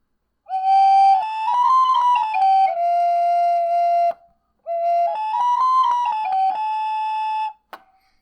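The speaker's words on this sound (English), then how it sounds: "This sounds like a plastic slide whistle with a keyboard on it." A melodica-style keyboard instrument that uses pipes instead of reeds plays two short whistly melodic phrases, bright and pure with a slight sliding pitch, loud and close, separated by a brief pause.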